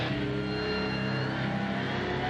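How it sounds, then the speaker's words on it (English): A Rusty Wallace stock car's racing engine holds a steady, loud, droning roar with layered tonal whine throughout, close and unbroken. "Genuine draft Rusty Wallace stock car."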